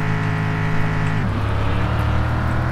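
A lifted, squatted truck's engine labouring up a mountain road in the video game Mon Bazou: a loud, steady, close drone whose pitch drops once partway through, as if the truck shifts gear or the load changes.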